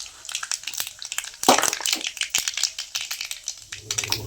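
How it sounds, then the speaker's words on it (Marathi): Mustard seeds, cumin and turmeric tempering in hot oil for sambar, heard close as a dense crackle of sharp pops over a steady sizzle with no talking. "थोडी टाकून मोहरी जिरं हळद आणि ह्याची आपण कडकडीत फोडणी आपण दिली"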